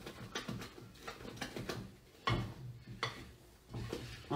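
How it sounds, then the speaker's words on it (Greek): A spatula stirs a chocolate mousse mixture in a bowl, making soft, faint scraping strokes in an uneven rhythm, with a few light knocks against the bowl. "Ανακατεύω με μία μαρίς."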